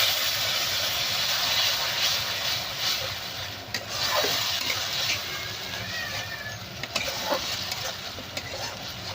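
Ginger-garlic paste and tomato paste frying in a pan for raw-banana kofta curry, a steady close sizzle and hiss with occasional stirring scrapes.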